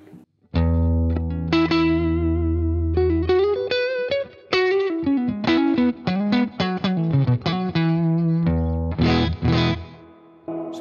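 Electric guitar through a Fender Tonemaster amp turned down to 12 watts output, heard through a cab sim: distorted, chorus-tinged chords and single-note runs, loud and continuous with brief gaps, no talking.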